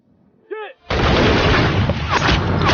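Gunshots from a sniper battle between American and Chinese sniper teams: a brief whistling tone, then a sudden loud blast that rolls into sustained heavy firing and roaring noise filling the rest of the clip.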